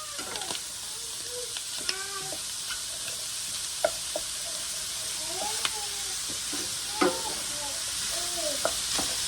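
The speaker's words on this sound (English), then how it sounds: "And we are going to cook that until the onion is softened. And you want to scrape up all those brown bits from the bottom of the pan." Onion sizzling in a hot pan as a utensil stirs and scrapes browned bits from the bottom, a steady frying hiss with repeated scraping strokes close by, some faint chatter in the background.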